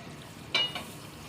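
Masala for Sindhi biryani is stirred in a hot pan, giving a short scraping sizzle with two quick bursts over a quiet background.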